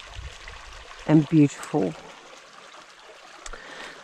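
Clear stream water flows steadily through a semi-rainforest, a soft continuous wash that sits beneath a person speaking briefly up close.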